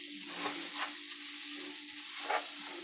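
Rice toasting in a hot pan on medium-high heat gives a steady close sizzle, broken by a few soft stirring scrapes, with no talking.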